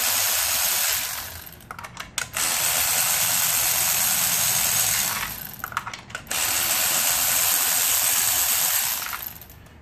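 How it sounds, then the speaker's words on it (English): Electric ratchet unscrewing the ignition coils on a Nissan Versa 1.8, two long steady whirring runs separated by brief pauses, close and fairly loud with no talking. "Go ahead and use my electric ratchet. Just basically unscrew all of them."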